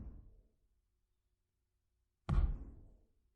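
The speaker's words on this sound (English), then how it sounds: "Sounds like something knocking against the wall." Two dull knocks against a wall upstairs, a faint one at the start and a louder, boomy thud after a pause of silence, each fading quickly.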